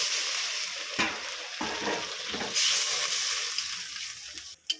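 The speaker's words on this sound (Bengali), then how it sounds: "পর্যায়ে গ্যাসটা একদম হাই করে দিয়েছি, আমি জল দিয়ে দিচ্ছি।" Water poured into hot frying masala for an egg curry on a high gas flame sets off a loud, close sizzle and hiss with a few stirring scrapes, no voices.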